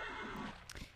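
A Minecraft horse neighs in a brief, loud, whinnying burst with rising and falling pitch, heard alone without any talking over it.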